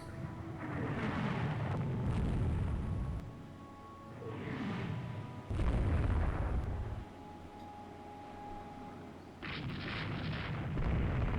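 Naval battle in the Rule The Waves 2 video game, with heavy explosions and gunfire booming in several loud bursts separated by quieter rumbling stretches, and no talking.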